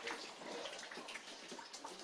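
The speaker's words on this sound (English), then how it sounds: "The hallway's leaking like crazy." Rainwater pours steadily into a flooded house during a hurricane, leaking through the hallway ceiling as a dense, continuous hiss and splatter, faint and unbroken throughout.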